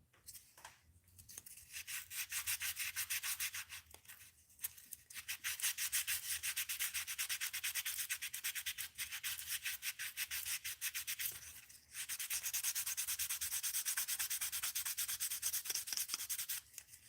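Sandpaper rubs briskly back and forth along the edges of a handmade wooden fishing lure, a steady close scratching in long runs broken by brief pauses.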